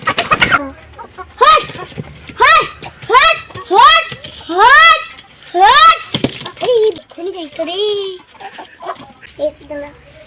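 Hens inside a village chicken coop, a run of loud, close clucks and squawks in uneven bursts, with a few softer calls trailing off.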